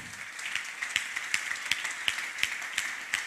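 A church congregation claps during a Thanksgiving service, producing a steady, moderately distant run of sharp claps at a fairly regular rhythm, with no talking over them.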